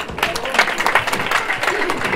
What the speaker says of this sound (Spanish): Los aplausos para él,